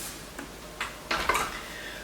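Light scraping and clinking of a utensil against a bowl as eggs are worked into creamed butter and sugar for Christmas cookies, a few soft irregular strokes that build slightly toward the end.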